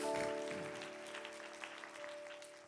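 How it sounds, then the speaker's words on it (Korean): A church congregation applauds in praise, a dense, steady wash of many hands clapping, moderately distant and fading slightly, with a sustained organ-like tone held underneath. "하나님께 영광의 박수 올려드리겠습니다."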